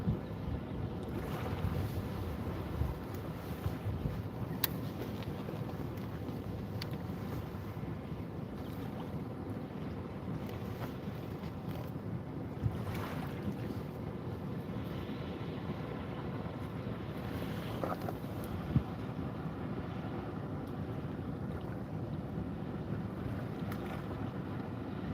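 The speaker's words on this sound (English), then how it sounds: "Too windy, that sucks. It's a little breezy here right now." Steady wind buffeting the microphone outdoors, a constant low rumble with occasional gusts near open water.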